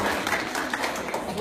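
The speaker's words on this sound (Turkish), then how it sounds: "Hepinizden bir alkış rica ediyorum." Brief applause from an audience at a school chess tournament ceremony in Manisa, a dense burst of clapping with some voices mixed in.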